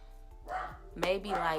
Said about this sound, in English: He hears somebody outside, so he's barking.